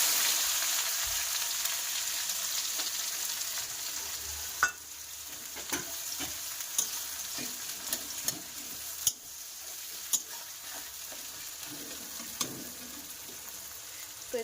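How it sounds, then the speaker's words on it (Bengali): Chopped onions fry in hot oil with a loud, close sizzle at first, then settle to a softer crackle punctuated by regular clicks and taps of a spatula stirring the pan. "আর এবার এর মধ্যে দিয়ে দেবো কোচানো পেঁয়াজ।"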